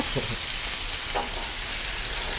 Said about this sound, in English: We have two pots sizzling in here.